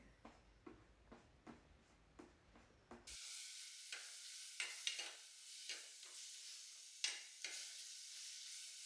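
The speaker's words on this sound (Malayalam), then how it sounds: "പാകത്തിനുള്ള വെളിച്ചെണ്ണയെ ഒഴിച്ചിട്ടുള്ളൂ പച്ചമുളകും തക്കാളിയും അതൊക്കെ ഒന്ന് വഴറ്റി" Green chilies and tomatoes sauté in coconut oil, soft rhythmic stirring strokes repeating every half second or so over a low, fairly quiet sizzle.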